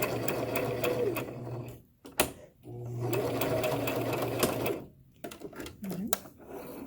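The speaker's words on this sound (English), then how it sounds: "you'll go ahead and sew a line about more than half, but not 3/4, and you'll sew that line down and back stitch it" Sewing machine running in steady bursts as it stitches a line on a fabric face mask, with backstitching; the motor hums and the needle taps rapidly, pausing between runs, with occasional voice in the gaps.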